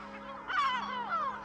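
Herring gulls in a colony on Conejera island in the Cabrera archipelago give loud, harsh, nasal calls, two drawn-out cries close by over a faint steady background.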